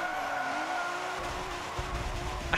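A trophy truck in Forza Motorsport 7 slides with a faint tire skid over a steady engine drone, the pitch easing up slightly as the slide continues for a few seconds.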